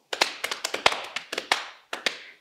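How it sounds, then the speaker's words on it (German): Body percussion in a music and movement lesson: slow thigh slaps, finger snaps and hand claps, about a dozen crisp close hits in a steady pattern, with a short pause before the last two. "Es geht los auf den Schenkeln. Dann kommt Schnips, Schnips, Klatschen."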